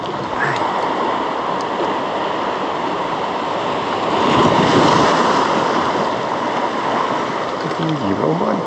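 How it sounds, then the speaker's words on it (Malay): High ocean waves and surf along a Malaysian shoreline during ultralight popper fishing, a dense continuous roar of breaking water with wind buffeting the microphone, swelling briefly midway, no speech. "Tinggi pula ombak ni."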